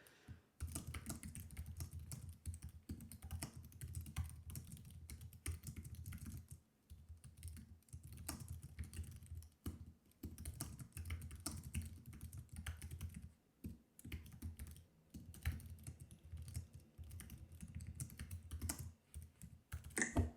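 Steady typing on a computer keyboard while working in the Workflowy outliner, with continuous close key clatter broken by a few brief pauses and no speech.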